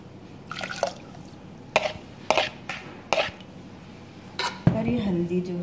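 Water goes into dal in a cooking pot in a home kitchen, with a few sharp utensil clinks and then a short, close splashing pour near the end.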